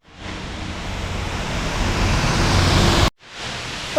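The Khorfakkan waterfall, an artificial cascade, pours as a broad steady roar of rushing water that swells slightly before cutting off abruptly, then resumes more quietly near the end.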